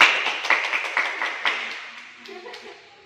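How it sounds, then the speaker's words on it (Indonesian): Clapping in a classroom, a few sharp, uneven claps close by that quickly thin out and fade, with brief voices and a faint chuckle as it dies down. "Tepuk tangan."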